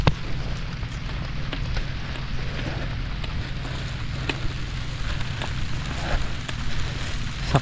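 Light drizzle falling outdoors on a farm plot of string beans, a steady dense patter with scattered soft pops and crackles, close and continuous with no talk.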